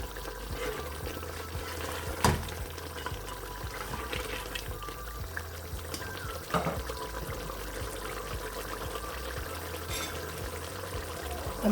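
Beaten yogurt poured into a pot of Turkish stew, a soft steady liquid pour with faint trickling over a low kitchen background, broken by a couple of small clinks.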